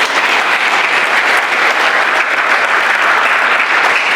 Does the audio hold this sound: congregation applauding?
yes